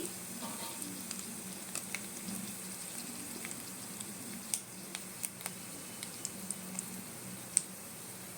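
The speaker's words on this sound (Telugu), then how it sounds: "అది కొంచెం చిటపట్లు ఆడాలి ఫ్రెండ్స్" Mustard seeds, small dried red chillies and asafoetida tempering in hot oil for a beetroot chutney, giving a faint low sizzle dotted with sparse, sharp crackling pops, with no talking.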